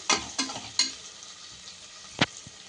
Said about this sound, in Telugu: అల్లం వెల్లుల్లి పేస్ట్ కానీ మిరియాలు కానీ పుదీనా ఇవన్నీ కొడతా ఇంకా చక్కగా ఫ్రై అయిపోవాలి